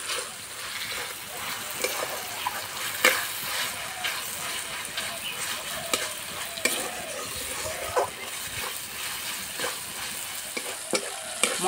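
Ginger-garlic paste and ground spices frying and being stirred in a pan for besan pakora curry, a steady close sizzle with scraping stir strokes throughout, no talking.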